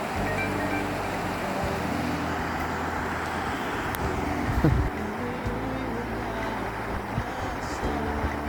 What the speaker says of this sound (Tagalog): Napakalakas talaga ng agos ng tubig.